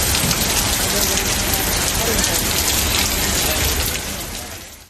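Steady heavy rain pours down outdoors in Tamil Nadu, a dense, continuous hiss of drops that stays loud and even throughout before easing slightly at the end.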